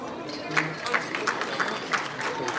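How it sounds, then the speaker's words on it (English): Guests at a fundraising gala dinner for Ghurki Hospital applaud together, a dense, steady wash of clapping with a faint rhythmic pulse running through it, moderately loud throughout. "Can you please all give yourselves last round of applause?"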